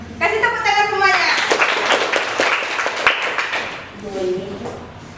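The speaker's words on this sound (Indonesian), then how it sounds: "Kasih tepuk tangan semuanya." A group of children in an Islamic studies classroom clap together as applause, a dense burst of hand claps mixed with young voices talking over it, fading after a few seconds.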